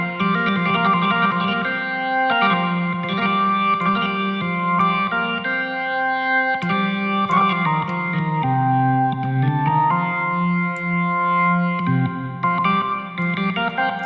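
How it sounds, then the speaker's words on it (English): A ToneStack classic rock organ plays a flowing line through a large plate reverb with light damping, sustained chords and shifting bass notes blending into a long, lush tail, continuous and fairly loud with no voices. "we could kind of make the plate bigger"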